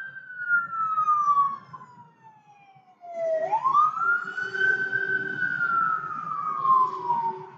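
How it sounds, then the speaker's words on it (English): A fire truck siren wails up close and passes by, sliding down in pitch, breaking off briefly, then rising again into a long, loud wail over faint road traffic. "here comes the ambulance, so I'm going to shut up. Actually, the fire truck."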